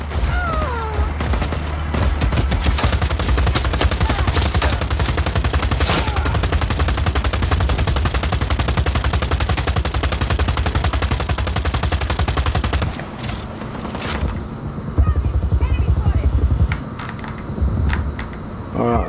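Heavy mounted-gun fire in Just Cause 4 rattles in a dense, continuous burst for about thirteen seconds, loud and close, then breaks off into scattered mechanical clanks and a few later blasts.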